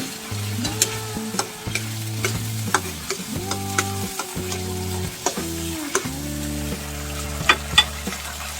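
Pork afritada stirred in a frying pan, a steady sizzle with scraping utensil knocks and clicks against the pan, accompanied by sustained tonal background hum or music throughout.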